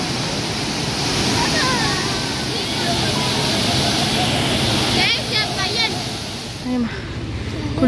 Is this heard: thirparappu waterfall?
yes